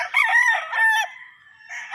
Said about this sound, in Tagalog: Mga gwapong mga manok